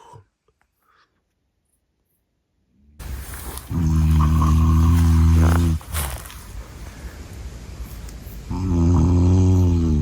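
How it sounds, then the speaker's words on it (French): A person snores loudly and close by in two long, rumbling, rattling breaths separated by quieter breathing, after a few seconds of near silence. "Ça ronfle."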